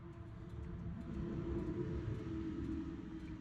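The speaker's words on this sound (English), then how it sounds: "We let the noisy truck go by." A low rumbling engine drones nearby as a heavy truck rolls past, steady and loud with no talking.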